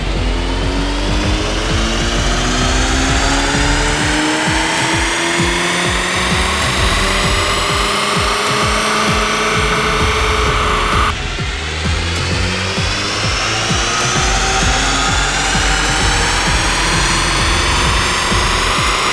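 A stock VW Mk8 GTI runs up on a dyno, its engine note rising steadily in pitch through a loud pull, briefly dropping at a shift, then climbing again, close and sustained with no voices.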